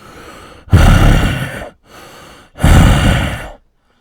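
A human voice mimics a hunched creature's heavy, snarling breathing: two long, loud, rasping breaths, each preceded by a fainter intake, close and alone with no talk.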